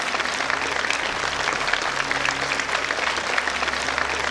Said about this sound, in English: A special round of applause for my teachers for making the moment possible